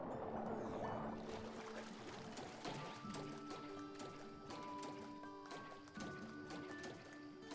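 Water splashing and pouring from a jump into a small paddling pool in the Super Mario Odyssey game, a burst of splash followed by trickling, sloshing water with tonal game music running underneath.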